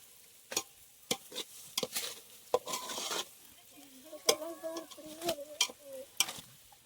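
A spoon stirring egg biryani with rice in a pot, repeated sharp scraping and clinking strokes at an uneven pace, close and moderately quiet, with a soft sizzle in places.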